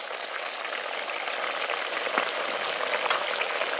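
Chopped chillies go into a frying curry with mustard paste in a pan, a steady, close sizzle and bubbling hiss that holds evenly throughout with no speech.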